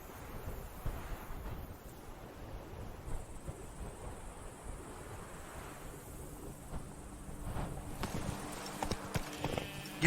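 A horse gallops in The Witcher 3: Blood and Wine, with a rapid, steady drumming of hooves heard fairly quietly under wind-like ambience.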